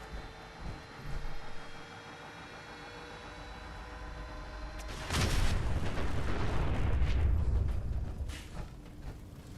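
Explosions in the video game Fallout 4: after a quiet stretch, a loud broadband blast erupts and rumbles on as a sustained roar, with no voices.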